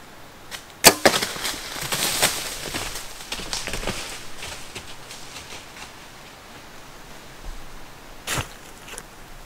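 An arrow is released from a bow during a public-land deer hunt in Ohio, giving a sharp snap and thwack near the start, then a quieter rustle and one more brief crack toward the end in an otherwise still woodland.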